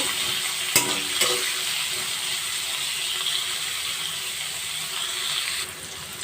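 Potato, carrot and beans frying with turmeric over a lowered flame, a continuous close sizzle with a couple of sharp stirring knocks early on.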